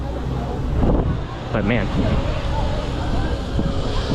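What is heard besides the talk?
strong wind blowing on microphone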